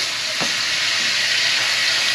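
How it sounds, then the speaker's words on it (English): Alligator curry simmers and sizzles steadily in a pan, a dense, even frying hiss that continues without a break, with one brief clink near the start. "we're gonna let this cook down just a little bit"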